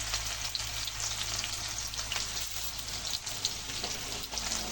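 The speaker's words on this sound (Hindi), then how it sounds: "और ये हमारा प्याज भी फ्राई हो गया है" Chopped onion and green chili frying in a pan, a close, steady sizzle and crackle that continues evenly with no voices over it.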